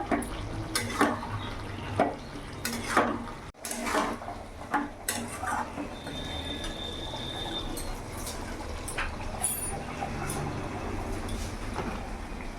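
A spoon or spatula stirs bottle gourd curry with rohu fish head in a pan, no water added, the gourd releasing its own juices; soft scraping and clinks of utensil against metal come and go over a low simmering hiss.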